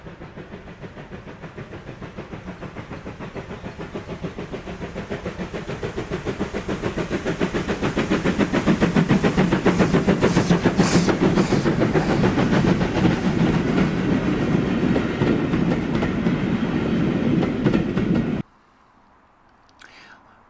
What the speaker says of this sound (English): where we see LMS Ivatt Mogul 46512 operating over part of the northern extension beyond Broom Hill